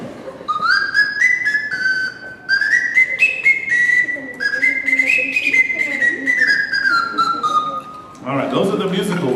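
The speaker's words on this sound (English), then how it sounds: "this whistle called the slide whistle" A tune played on a slide whistle at a concert rises and falls in smooth gliding pitches with short phrase breaks. A burst of applause-like noise follows at the end.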